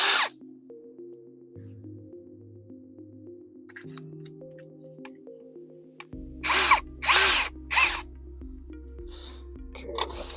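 An electric screwdriver drives screws on a Sea Ray 48 Sundancer boat during an AC install, with several short close whirring bursts and trigger pulses separated by pauses, the loudest burst near the end.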